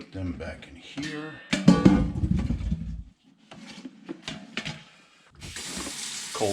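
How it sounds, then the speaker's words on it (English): Water runs into a kitchen sink as boiled potatoes are strained and rinsed under cold water, a steady splashing hiss broken by pauses, with a person talking over it. "take these to the sink, strain them, and cool them off so they stop cooking"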